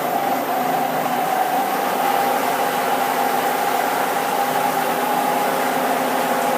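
A centre lathe turns aluminium at 2000 RPM, giving a steady, even mechanical hum and whine with a sustained tone and broadband hiss, unchanging and close throughout.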